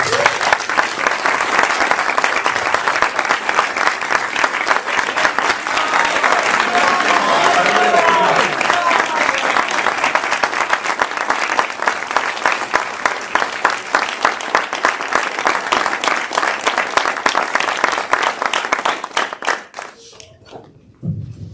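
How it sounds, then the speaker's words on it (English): A large audience at a UC Berkeley talk applauds loudly and continuously for about twenty seconds as speaker J. Sai Deepak takes the stage, with scattered cheers, before the clapping fades out. "a big round of applause"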